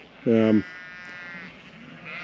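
Romney hogget sheep bleating once, a loud close wavering bleat lasting about a third of a second, followed by quieter background sounds and someone talking.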